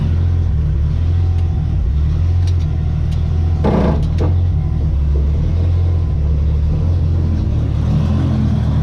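A Nissan S13's engine idles steadily during a gearbox test, a loud continuous low rumble that holds an even pitch, with a couple of brief clanks partway through and no talking.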